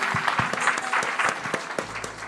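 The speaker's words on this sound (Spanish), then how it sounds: "Un aplauso al Señor Jesucristo." Congregation applauding during a Sunday church service, a close, moderately loud burst of clapping with distinct individual claps standing out, lasting a couple of seconds.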